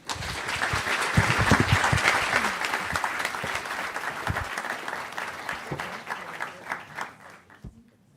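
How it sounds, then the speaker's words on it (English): A media conference audience applauds a panel steadily, dense clapping that swells early and then gradually thins out into scattered claps before fading away. "Please join me in giving our panelists one more round of applause."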